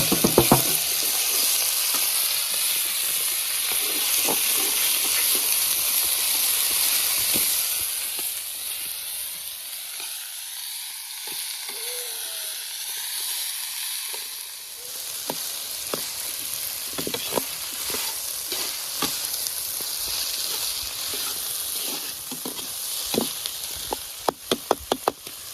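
Chopped vegetables for Gujarati kadhi khichdi fry in hot oil outdoors at a farm in winter, a steady loud sizzle with scattered knocks of a stirring spoon against the pot, easing briefly midway before the crackle builds again.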